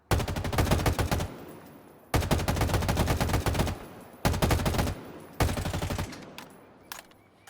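Rapid automatic weapon gunfire in a video game, four long loud bursts of fast repeated shots separated by short pauses, close and dominant.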